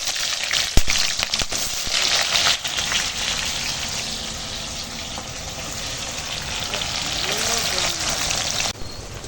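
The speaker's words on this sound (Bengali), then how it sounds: "এখানে আছে গোটা গরম মশলা তেজপাতা ফোড়নে দিয়ে দিলাম এবারে কেটে রাখা পেঁয়াজ দিয়ে দিলাম" Sliced onions fry in oil with whole garam masala and bay leaves, a loud, continuous sizzling hiss up close, broken by a few clinks of a utensil early on.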